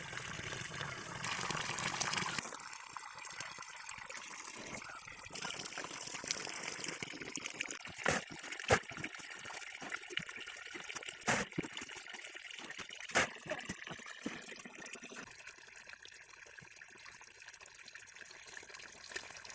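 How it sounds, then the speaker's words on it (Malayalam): Steady rushing of water pouring and splashing continuously into a fish pond, with occasional sharp knocks and clatters over the flow. "ഇപ്പോൾ നമ്മുടെ പോണിലേക്ക് വേണ്ട വെള്ളമെല്ലാം ഒഴിക്കാൻ തുടങ്ങിയിട്ടുണ്ട്"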